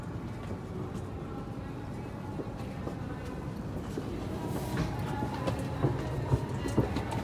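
A Hayabusa 301 E5 series Shinkansen pulling into Sendai station, heard from inside the car as a steady low rumble with faint rail clicks, soft and continuous throughout.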